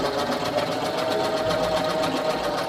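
A sewing machine stitches a picot edge on cloth with a fast, steady mechanical whirr, close and continuous throughout, with no speech.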